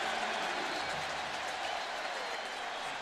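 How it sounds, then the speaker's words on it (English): Stadium crowd at a Ravens home football game against the Bengals, a dense, steady roar of thousands of fans that holds at an even level without breaks. "the Bengals are finding out the noise of this crowd is a lot like a college town"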